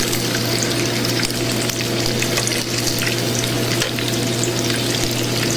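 Yuca-stuffed shrimp frying in hot oil, a dense, loud, steady bubbling sizzle heard close up with no one talking.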